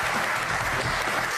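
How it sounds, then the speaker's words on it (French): A studio audience on a televised sports talk show breaks into brief applause, a loud, dense burst of many hands clapping without speech. "On l'applaudit."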